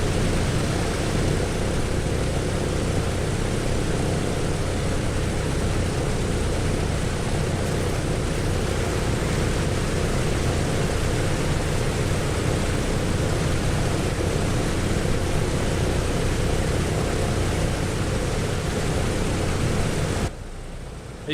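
Douglas DC-6 four-engine propeller airliner in Microsoft Flight Simulator, engine number four running up with a steady, loud broadband roar and low rumble that holds throughout before dropping off abruptly near the end.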